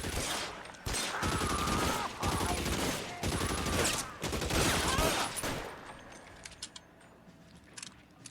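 Rifle fire in the LA Noire video game: loud bursts of rapid gunshots for about six seconds, broken by brief pauses, then tapering into a few scattered faint shots and clatter.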